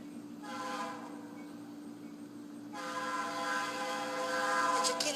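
A Canadian National train sounds its horn in steady multi-tone blasts, a sustained chord that swells louder in the second half as the train draws nearer, with no voices.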